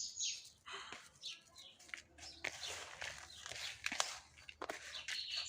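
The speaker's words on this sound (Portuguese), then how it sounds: "De vez em quando aparece aqui algum passarinho para assistir às aulas também." A small bird chirps in short, bright bursts outdoors, with soft rustling, footsteps and faint handling noise at close range beside a potting setup for succulent substrate.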